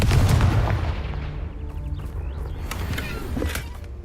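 A Confringo blasting spell in Hogwarts Legacy erupts with a loud, close explosive burst, then fades into crackling magical debris and faint whooshing tones, with no speech.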